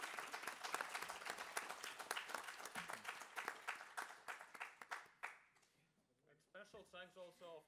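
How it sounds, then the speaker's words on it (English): An audience applauds the speakers at the close of a panel discussion, brisk clapping that tapers off into quiet, followed by someone starting to speak. "please give our speakers a big round of applause"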